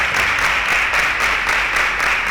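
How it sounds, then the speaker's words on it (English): A studio audience at a televised Kenyan school quiz show claps in a dense, steady burst of applause that stays loud and even throughout, with no voices on top. "A round of applause to them."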